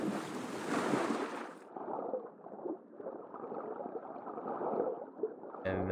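Water splashes and sloshes as a character swims into a pond beneath a waterfall in Assassin's Creed Valhalla, starting with a brighter rush that drops into a quieter, muffled underwater churn before a sudden burst at the end.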